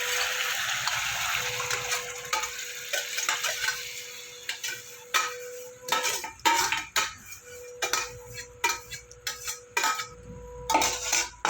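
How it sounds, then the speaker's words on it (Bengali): Boiled kolai dal is poured into a pan with ginger and fennel, a wet gushing slosh at first, then a run of sharp metallic clinks and scrapes as a spoon stirs against the pan, close and uneven. "এবার আমি সেদ্ধ করা ডালটা দিয়ে দেবো।"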